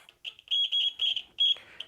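A Sonalert beeper going off as a wire grounds out, sounding as a series of short, shrill, choppy beeps in an irregular stutter, fairly close and with no talk.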